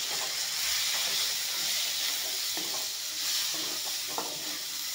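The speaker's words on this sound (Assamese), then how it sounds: "মটৰখিনি অলপমান ভাজি লৈ" Peas and green chillies fry in a pan with cumin and cumin powder, giving a steady, bright sizzling hiss with a few soft stirring knocks underneath.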